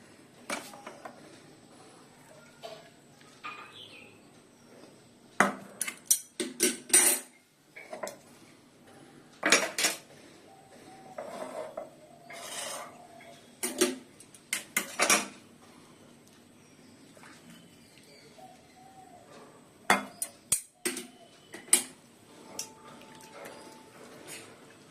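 Tea being taken off a home stove, with metal utensils and pots clinking and clattering in irregular bursts of sharp close knocks and scrapes, separated by quieter gaps, no voices.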